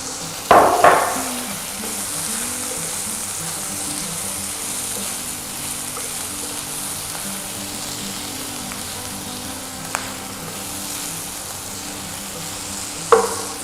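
Chicken sautéing in a pan as it softens and cooks through: a continuous moderate sizzle close up, broken by a couple of sharp utensil knocks and scrapes near the start and end.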